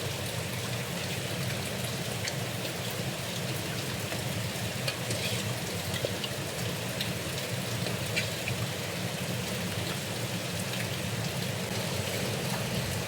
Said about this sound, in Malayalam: അങ്ങനെ നമ്മുടെ അരപ്പ് തിളക്കാൻ തുടങ്ങിയിട്ടുണ്ട്.